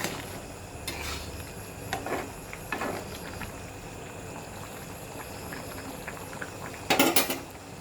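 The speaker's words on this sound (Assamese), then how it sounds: "এইটো অকণমান উতলি আছে, এতিয়া অকণমান উতলিব দিম।" A pork curry with tomato bubbles in a pot in a continuous low boil, with a few sharp utensil clinks and knocks at intervals and a louder clatter near the end, with no voices.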